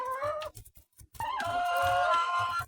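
Chickens clucking and squawking close by, a few short calls followed by a longer, louder run of vocalizing.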